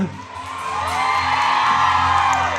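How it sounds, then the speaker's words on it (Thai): A large crowd whoops, screams and cheers continuously, loud and building slightly, with shrill voices rising above the roar. "ขอบคุณสำหรับเสียงปรบมือ ขอบคุณสำหรับเสียงกรี๊ด"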